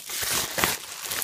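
A mailed package containing a Brickarms order is torn open by hand without scissors, giving close, steady crinkling and rustling of packaging with brief tearing bursts throughout.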